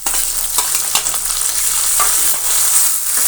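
Onion and vegetables fry in hot oil in a pan as tomatoes go in for a Bhogi mixed-vegetable bhaji: a loud, close, continuous sizzle broken by brisk stirring clatters, with no talking.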